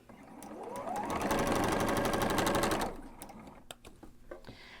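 A home sewing machine runs steadily for about two seconds while stitching quilt blocks for a Santa hat design, then stops and leaves a few quiet clicks and light handling noises.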